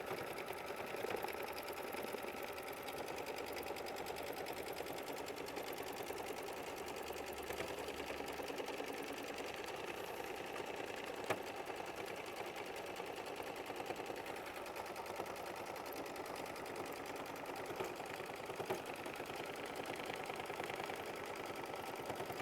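An embroidery-style sewing machine stitches the outline of a sampler bouquet quilt block, a rapid, even mechanical chatter running steadily and alone throughout.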